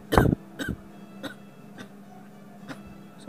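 Harsh coughing from a man, a loud burst of coughs up front followed by several fainter, spaced single coughs, with no talk between them.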